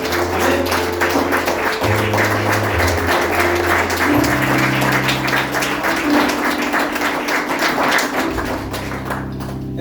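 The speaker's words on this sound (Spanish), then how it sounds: "Le damos un fuerte aplauso al Señor." A church congregation applauds steadily and loudly for nearly ten seconds, the dense clapping layered over sustained keyboard or organ chords, with no speech.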